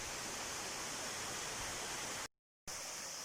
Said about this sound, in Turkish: kayalığın üzerinden birçok şelale var. Birçok bir yerden su akıyor.